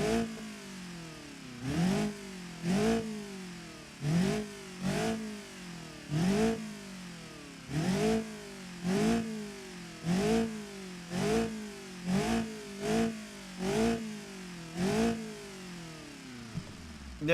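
A naturally aspirated car engine in the BeamNG driving game, with no turbo, revs again and again in a steady rhythm, each burst climbing then dropping, with a rough, throaty tone and no talking.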